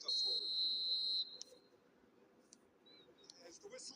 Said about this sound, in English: There's the whistle, and here we go.